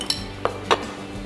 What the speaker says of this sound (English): Give them a bit of a stir through.